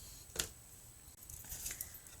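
Paper is cut with scissors while a circle is trimmed out for a graduation box, a few quiet close snips spread across a short, otherwise hushed moment.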